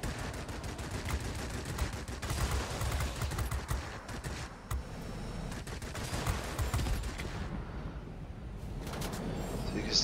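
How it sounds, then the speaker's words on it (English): Cannons of a La-15 jet fighter firing in the combat flight game World of Warplanes, dense rapid bursts of gunfire over a roaring engine, continuous and loud with short pauses between volleys. "So you can see those cannons are quite good."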